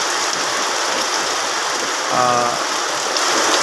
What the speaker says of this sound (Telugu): ఫ్రీక్వెంట్గా వర్షం పడుతోంది మా ఏరియాలో